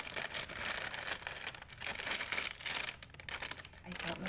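Crinkly plastic ASMR items being folded and handled up close, a dense, continuous crinkling with bursts and brief lulls, no talking.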